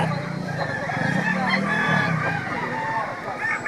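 A one-year-old fighting rooster crows loudly at a gamefowl market in Lipa, Batangas, its drawn-out call standing out close over background bustle and clucking.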